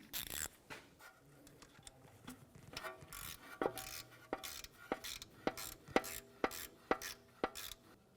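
Ratchet tightening the bolt on a front wheel speed sensor of a 2004-2010 BMW X3, a series of quick metallic clicks in short bursts, growing more regular and pronounced near the end, close and alone.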